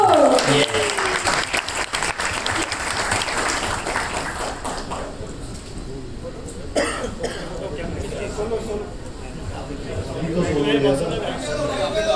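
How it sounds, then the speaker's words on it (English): An audience applauds and cheers for Kartik Aryan, with a burst of clapping at the start that thins into scattered claps, coughs and murmuring chatter, while voices carry on over the crowd noise. "Let us all branch together and make a cheer for Kartik."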